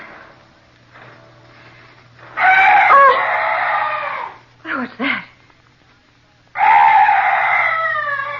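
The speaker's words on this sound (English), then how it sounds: "Oh, some night bird. Yes, that's all. Such a weird sound." Two loud, strained wavering calls with a short hoarse squawk between them, close and eerie, plus a brief spoken question at the start.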